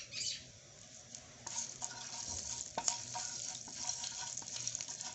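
Cumin seeds fry in a little vegetable oil in a pan for samosa filling, giving a soft steady sizzle with light stirring scrapes and a few clinks, fairly quiet throughout.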